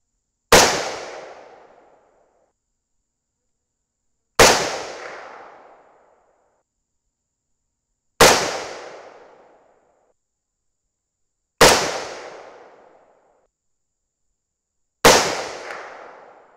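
Five loud, sharp rifle shots ring out at evenly spaced intervals a few seconds apart, each fired through a Precision Armament M11A2 muzzle brake during barrel harmonics testing and followed by a decaying outdoor echo.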